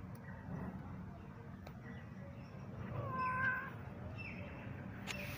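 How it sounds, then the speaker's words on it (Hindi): A cat out near a feeding spot gives a single faint, brief meow partway through, set against a continuous low ambient rumble. "बिल्ली फिर वैसे ही आवाज़ करते हुए चलती रहती है, बोलती रहती है"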